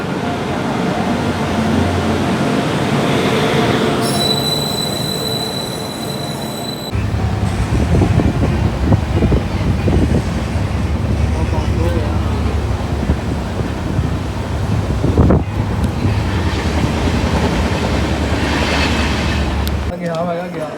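A train arrives and runs toward Amritsar with a loud, steady rumble and wheel rattle. A high whining tone rises partway through, and wind buffets the microphone throughout.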